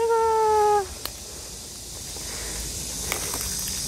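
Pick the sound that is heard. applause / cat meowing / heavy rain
cat meowing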